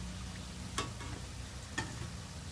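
Steady sizzling of vegetable curry puffs frying in hot oil, a continuous crackle with two brief louder clinks or stirs.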